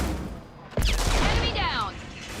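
Gunfire in a combat video game: a sudden loud burst of shots hits partway through, then rapid whizzing, crackling weapon fire continues over a busy battle mix.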